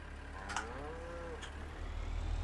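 A single drawn-out cow moo from cattle in the Farming Simulator 19 game, mid-loud and close, set against a low steady rumble of machinery with a couple of faint clicks.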